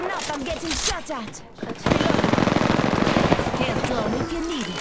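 Rapid automatic gunfire in a battle royale video game firefight, a dense, loud stream of shots lasting several seconds, with a voice talking over the opening before the burst starts.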